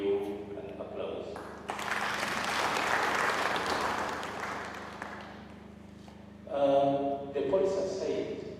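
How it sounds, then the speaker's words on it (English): Attendees at a diocesan meeting for a finance policy launch give a round of applause, a moderate burst of clapping in a hall that rises after a brief spoken line and tapers off before someone speaks again. "I invite all the attendees to give you an applause."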